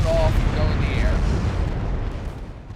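Naval gunfire and shell explosions in the warship battle game Ultimate Admiral Dreadnoughts, heard as a heavy low rumbling boom that slowly fades, with faint whistling tones near the start and no clear talk.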